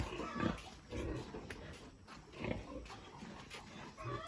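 Low grunting and snorting of large sows, fairly faint and continuous, with a few louder grunts rising over a busy background.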